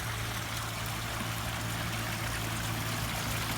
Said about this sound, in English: We have Greg's wonderful little waterfall